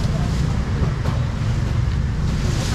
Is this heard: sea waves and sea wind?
yes